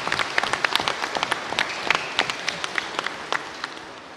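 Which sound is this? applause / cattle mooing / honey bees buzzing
applause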